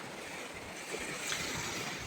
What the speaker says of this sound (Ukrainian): І хвилі є.